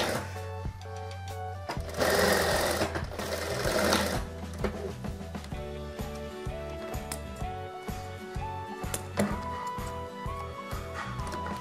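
Bursts of sewing machine stitching run along the side seam of a child's dress, a rapid mechanical whir that starts and stops with short pauses between runs, close up and with no talking.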